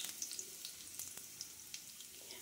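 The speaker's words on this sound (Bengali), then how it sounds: "রসুনটা দেখুন বেশ সুন্দরভাবেই ভাজা হয়ে গেছে" Thinly sliced garlic fries in hot oil with a faint, continuous sizzle and small scattered crackles, quiet and without talk.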